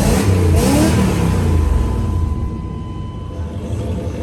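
A truck engine with a single muffler revs up, loud and close, its throaty rumble rising then settling into a steady idle with a possible cam lope.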